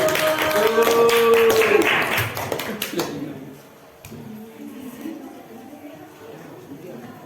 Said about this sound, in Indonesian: Beri tepuk tangan dong untuk kelompok 1